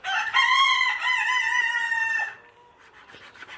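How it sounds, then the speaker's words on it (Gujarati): A rooster in a backyard poultry setup lets out one loud, drawn-out crow up close, followed by softer clucking from the chickens around it. "આ આપણા મરઘા આવી ગયા, જોઈ શકો છો."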